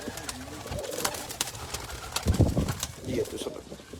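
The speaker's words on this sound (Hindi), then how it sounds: "बहुत अच्छे टेडी यहाँ पे मौजूद है जी, और सारे फॉर सेल है।" Teddy pigeons kept for sale coo in low, throaty bursts close by, set against a busy background of rustling, scattered chirps and someone talking.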